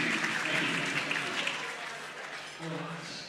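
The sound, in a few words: audience applause for the comedy magician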